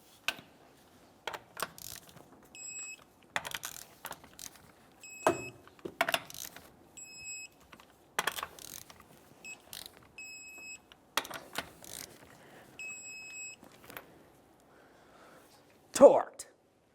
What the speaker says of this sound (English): Let's torque these in a crisscross manner.